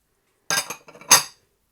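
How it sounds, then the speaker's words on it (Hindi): A spoon stirring chana chaat of chickpeas, onion, cucumber and tomato in a bowl: a few close, bright clinking scrapes in quick succession, then silence. "अब इनको अच्छी तरह मिक्स कर लेंगे"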